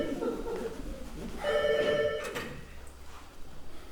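A telephone bell rings in a small theatre comedy sketch, a short trill of repeated tones rising over onstage voices and fading as people keep talking.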